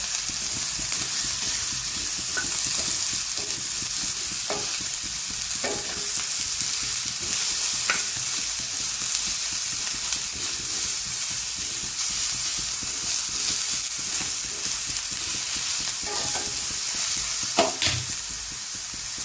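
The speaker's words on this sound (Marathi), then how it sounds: "आपण परतणार आहोत तेलावर" Ridge gourd sautéing in oil in an iron pan gives a steady, close sizzle and crackle throughout, with occasional soft clicks of stirring.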